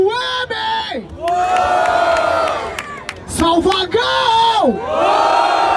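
At a freestyle rap battle in Barueri, São Paulo, a large crowd roars, whoops and chants in loud sustained waves, with rising and falling shouts that swell, dip briefly and surge again.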